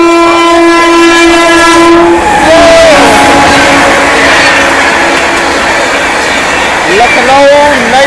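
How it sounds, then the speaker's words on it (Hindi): The Lucknow–New Delhi Swarna Shatabdi Express passes at speed on a flat double line, with a loud sustained horn blast opening the clip and a rushing roar of carriages that continues. A second horn sounds near the end. "क्रॉसिंग हो रही है अपनी लखनऊ नई दिल्ली स्वर्ण शताब्दी"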